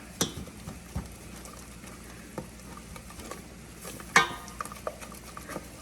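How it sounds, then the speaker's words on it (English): A flour roux for mac and cheese stirred in a pot, with a soft steady sizzle under intermittent scrapes and taps of the utensil against the pan. "You're going to stir that up until it's pretty much mixed together"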